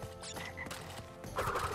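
Cartoonish frog croaks from Crash Bandicoot 3, a few short bursts in quick succession, fairly close and clear over faint game background sound.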